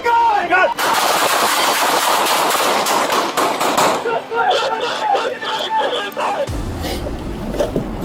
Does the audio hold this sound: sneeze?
no